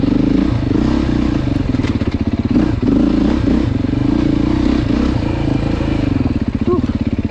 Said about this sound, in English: Well, this 390 is a potent engine.